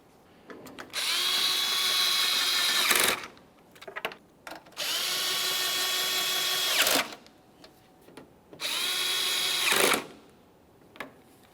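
A power drill snugging headlight mounting bolts on a GMC Acadia, three whining bursts of a few seconds each separated by short pauses and small clicks, close and clear.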